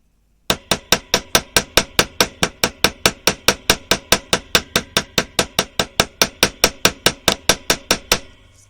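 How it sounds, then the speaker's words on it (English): A hammer taps straight down onto jewelry wire resting on a block, about thirty sharp, evenly spaced metallic strikes at a quick steady rhythm, close and loud with nothing else heard. "Whilst I repeatedly tap straight down onto that wire to set that shape permanently into the form that we've asked it to sit in"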